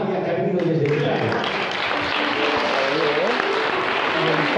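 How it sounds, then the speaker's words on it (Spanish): An audience at a choir concert in a village setting breaks into sustained applause, dense, loud, close clapping filling the whole stretch, while a voice talks over it at the start. "Pues un aplauso para Amalia, que ha venido desde Italia."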